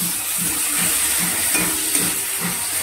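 Ginger and tomato frying in hot oil with torn green chilies, a steady close hiss and sizzle that continues evenly throughout.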